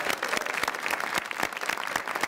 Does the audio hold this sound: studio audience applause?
yes